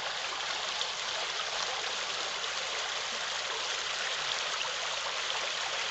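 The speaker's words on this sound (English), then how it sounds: "Just to hear the sound of that water flowing down through, it's gorgeous." Steady, even rush of a small trout creek flowing over rocks, a constant bright babbling with no voices or other sounds.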